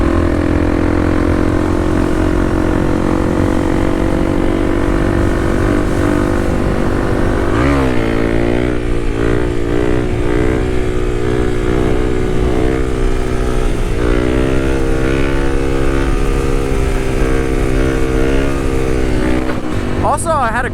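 A Kawasaki KLX300 dirt bike revs hard through its gears for a wheelie, engine note climbing and dropping with sharp throttle changes, close and loud throughout.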